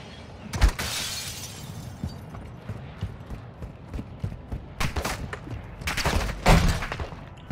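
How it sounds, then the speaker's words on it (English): Gunfire from the Hurricane gun in a video game: several short bursts of shots at scattered moments, fairly loud against a busy low game background. "I'm using Dan's favorite gun that sucks at ammo. What? The Hurricane"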